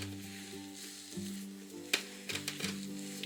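Slime made with a Poopsie unicorn horn is stirred in a container, giving soft sticky squelches and a few clicks up close, with a faint tonal hum underneath.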